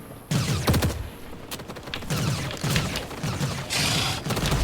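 Rapid bursts of gunfire from the game The Cycle, loud and repeated in short volleys, with a busy mix of effects around them.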